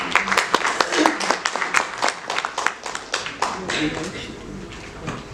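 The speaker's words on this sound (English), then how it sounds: "May I request a big round of applause for all our wonderful guests." Guests at a women entrepreneurs' event receive a round of applause: a smaller audience claps in distinct, closely spaced hand claps, sharp and near, the sound gradually thinning and fading toward the end.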